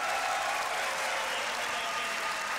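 A beatbox battle crowd applauds continuously, a dense even wash of clapping and cheering that fills the whole stretch without pause.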